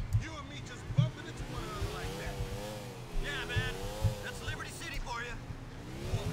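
Motorcycle engine in GTA IV: The Lost and Damned, a steady droning ride with the pitch rising and falling as the bike speeds and slows, continuous under louder game sounds and voices.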